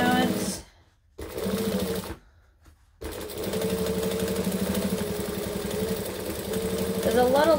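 A sewing machine stitches around the edge of a vinyl bag through several layers of vinyl, making a steady mechanical whirring after two short starts, close and clear.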